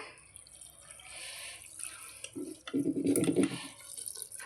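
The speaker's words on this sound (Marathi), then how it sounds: "आता ह्याच्यामध्ये पाणी ॲड करूया" Water pours into a pressure cooker holding dal and spinach, a soft splashing that builds into a louder, fuller gush near the end of the pour. Quiet kitchen background, no talking.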